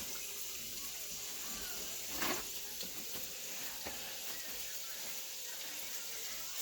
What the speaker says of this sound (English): So first I'm washing my hands.